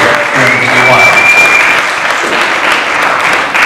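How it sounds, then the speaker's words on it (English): A storytelling event audience gives a round of applause, loud dense clapping that swells and holds steady; a voice speaks briefly at the start, over the clapping. "I think that deserves a round of applause."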